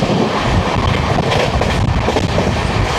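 Kolkata–Sairang express train running fast, a loud, steady rushing roar of wheels on rails with rattling carriage noise and wind buffeting close to the microphone, continuous throughout with no voices.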